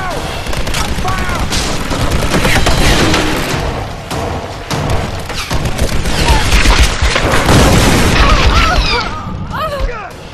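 Gunshots and explosive booms crowd a Tomb Raider 2013 firefight, loud and dense in overlapping bursts over several seconds, with voices calling out amid the shooting.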